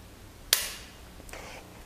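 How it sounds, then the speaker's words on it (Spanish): A single sharp pistol gunshot crack at a firing range, fairly faint and followed by a brief decaying tail and a softer second report. "Y ahora sí, estamos listos para hacer nuestro disparo."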